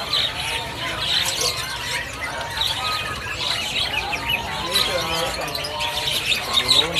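Many caged birds at a busy bird market chirp, tweet and squawk continuously in a dense, loud chorus, with people talking faintly underneath.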